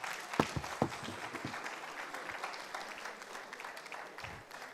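Scattered, modest applause from an audience at a ministerial press briefing of foreign affairs and interior officials, a few claps near the start thinning into a soft, sparse patter.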